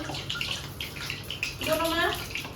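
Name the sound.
water running from a tap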